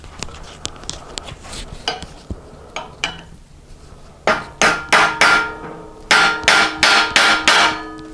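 A large blade screwdriver is tapped into the fork yoke clamp slot of a 1983 BMW R80ST motorcycle, first with light scattered taps, then with a run of louder, evenly spaced metallic strikes.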